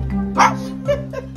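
A small cockatoo imitates a dog's bark, giving a few short, close, yappy barks spaced roughly half a second apart against a low steady background hum.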